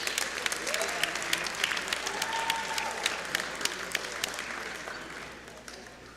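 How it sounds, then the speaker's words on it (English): A crowd at a college men's basketball game applauds a hall of fame inductee, with dense continuous clapping and sharp individual claps standing out, holding steady before easing off near the end. "let's give a big round of applause to Paul Stevens."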